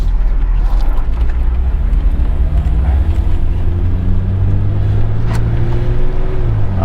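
Steady, loud road and engine drone fills the cabin of a moving 1996 Jeep Grand Cherokee Laredo ZJ with its headliner removed, a continuous low rumble with a faint rising whine and no speech.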